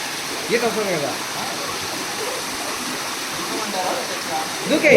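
Water rushing and splashing at Kumaradhara Theertham near Tirumala, a continuous close stream of flow with a voice speaking over it at times.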